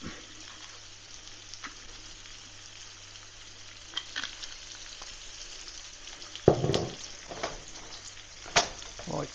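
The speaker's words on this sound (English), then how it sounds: "I like to hear that sizzle." Whiting fish sizzling in hot oil, a constant crackling hiss with sharper pops and spatters toward the end, plus a few clinks.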